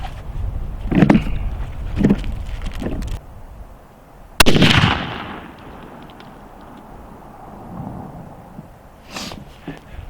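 Savage Axis XP .308 rifle fired outdoors: a few sharp, loud shots spaced apart, each with a ringing decay, one especially strong crack followed by a long echoing tail and quieter background.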